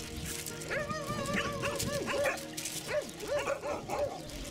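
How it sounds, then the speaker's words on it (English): A very sick dog gives a run of high yips and short barks mixed with whimpering whines, close and fairly loud, rising and falling in uneven bursts. "Yadigar and Gonca found a very sick dog"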